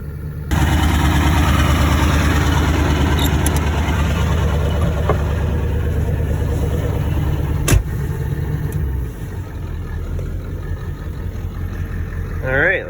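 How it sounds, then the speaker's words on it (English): A car engine runs at high idle while warming up, a steady loud drone that holds for most of the stretch and eases slightly near the end, with a brief sharp click midway. "Turn our high idle on and let it warm up some more."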